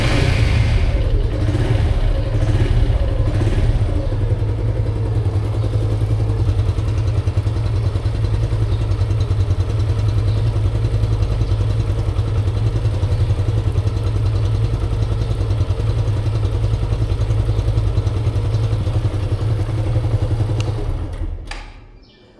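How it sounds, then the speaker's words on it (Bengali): A Suzuki Gixxer 155 motorcycle engine idling close up, a loud steady low rumble with light mechanical clatter that runs unchanged for about twenty seconds before cutting off at the end. "আমার কাছে মনে হইতেছে যে ইঞ্জিন সাউন্ড আগের মতোই আর কি, তেমন কোনো চেঞ্জ নাই"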